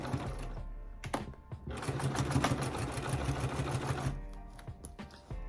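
A domestic sewing machine stitches an African print fabric pouch, guided along the presser foot edge: a close mechanical whirring run of about two seconds, framed by shorter start-stop bursts and handling clicks.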